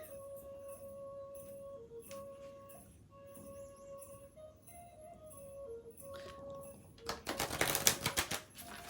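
Rapid crisp clicking and riffling of tarot cards being shuffled in two halves, building into a louder flurry of shuffling near the end, over a quiet background with a faint hum.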